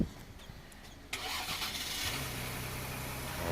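Brief starter crank on a 2020 Ford Explorer after a jump start, catching about a second in and settling into a steady, moderately quiet idle heard up close.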